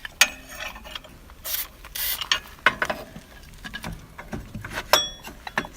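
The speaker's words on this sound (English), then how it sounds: "using it to lube up the shaft right here to slide the clutch gear thing in." A clutch gear slides onto a greased go-kart shaft, giving irregular metallic scrapes, clicks and rubbing knocks up close, several sharp bursts over a quiet background without speech.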